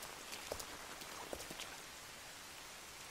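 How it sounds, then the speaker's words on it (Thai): Steady rain falls as a faint even hiss, with a few scattered droplet taps near the start and no voices. "เพราะว่าฝนตกแล้วนะ"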